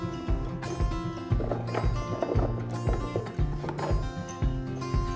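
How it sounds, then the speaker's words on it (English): A ridden horse on a farm on Vancouver Island clip-clops steadily, its hoofbeats falling in a close, even rhythm over a continuous musical backing. "And that was to ride my horse."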